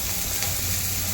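Dill leaves frying in oil give off a steady, dense sizzle that stays close and even from start to finish, with no voices over it.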